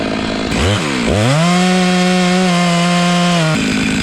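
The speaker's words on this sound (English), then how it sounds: "You're gonna have to re-cut the bottom a centimeter lower." A chainsaw makes the lower cut on a boxelder tree standing next to a shed. It revs up sharply twice, then holds a loud, steady cutting drone close by for about three seconds before dropping off.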